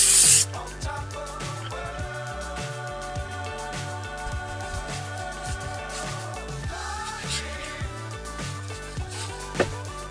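A short, loud hiss as an electric sprayer mists Green Star cleaner onto the interior plastics of a BMW iX1, quickly giving way to steady background music.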